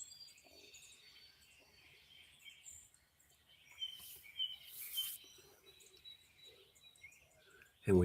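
Birds singing outdoors in the morning, faint high chirps and trills scattered across a quiet background, with a louder knock at the very end.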